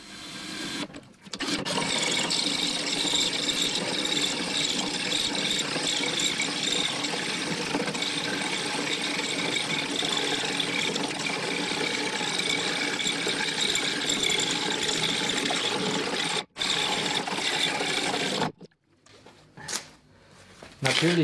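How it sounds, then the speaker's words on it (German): Star M circle cutter boring into wood, a loud continuous grinding, rattling cut that runs steadily, pauses briefly, then stops with a few short bursts near the end. "Ich habe ja einen Star M-Kreisschneider und jetzt schauen wir mal, wie der sich schlägt."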